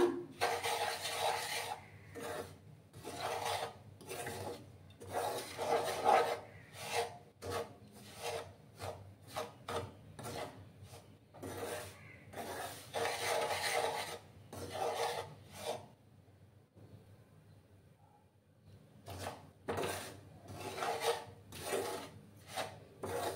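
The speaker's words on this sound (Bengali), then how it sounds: "দেখো বন্ধুরা এইভাবে কনস্ট্যান্ট নাড়াচাড়া করে যেতে হবে" A spoon stirs semolina halwa frying in a pan, producing close, rhythmic scraping strokes that repeat steadily, break off for a few seconds, then resume.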